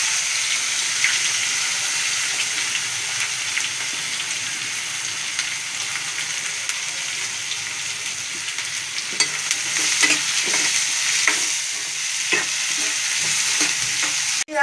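Onions tipped into hot oil already tempered with curry leaves, mustard seeds and turmeric for a capsicum gravy: a steady bright sizzle with stirring scrapes growing busier toward the end, close and loud, no voices.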